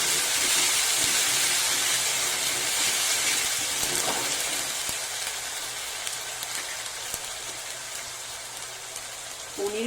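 Ginger and green chili paste with spices sizzling in a pan with onion and garlic, a steady broad hiss of frying that eases slightly over time, close and alone.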